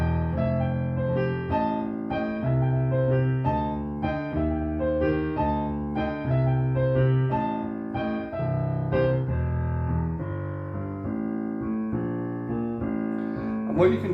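A blues piano riff played with an embellishment added, both hands together in a bouncing repeated pattern, close and full for about fourteen seconds without speech.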